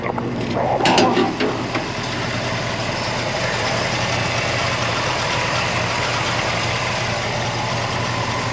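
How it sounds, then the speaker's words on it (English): Old 1972 Ford F-250 pickup engine idling steadily after sitting for years, a low, even rumble that runs close and continuous, with a brief clatter near the start. "All right, we got the truck running."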